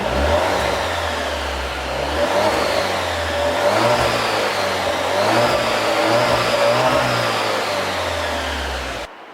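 Alfa Romeo Giulia Veloce with a 2-litre four-cylinder engine revs repeatedly while stationary, the tone climbing and falling in several steady swells over a sustained idle drone, loud and close with no voices.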